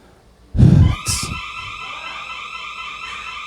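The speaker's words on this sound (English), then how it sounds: "That's the pool alarm." A swimming pool alarm sounds in a home backyard: a sharp electronic tone holds steady for a few seconds, following a loud thump or bump at the start.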